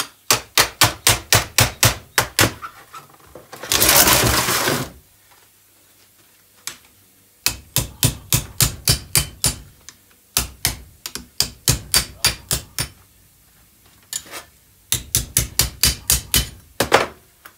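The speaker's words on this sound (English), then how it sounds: "Favourite body working hammer. Let's see if we can flatten this out a little bit." Rapid bursts of metallic hammer taps in quick runs from a body working hammer flattening a car body panel, separated by short pauses and one brief scraping rush.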